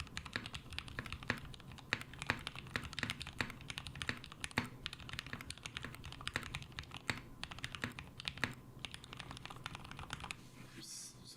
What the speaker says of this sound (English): So let me do a quick typing test.